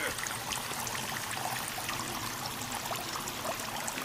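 Water flowing in a cave in the video game Sons of the Forest: a steady, hissing stream with trickling splashes, continuous and fairly close, with no talk.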